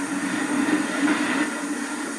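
South African Railways Class 16E steam locomotive, uncoupled from the Blue Train, pulling clear with a loud, steady rumbling roar and hiss that holds evenly throughout.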